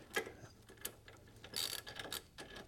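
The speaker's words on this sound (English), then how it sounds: "we grab our 3/4 inch socket, and I got a 1/2 inch drive" A 1/2 inch drive ratchet turning a 3/4 inch socket while tightening SUV rigging hardware makes quiet, close clicking pawl bursts in several short strokes, without voices.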